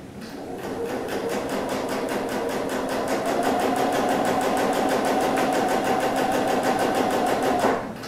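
A sewing machine stitches a quarter-inch seam on a quilt sampler in one unbroken run of fast, even needle clatter, loud and close, with no voices, then stops abruptly near the end.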